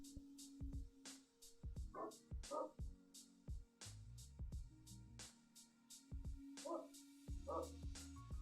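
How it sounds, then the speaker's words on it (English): A neighbor's dog barks loudly in short repeated bursts, several sharp yips spaced across the stretch over a steady background hum. "the neighbor's doggy is barking"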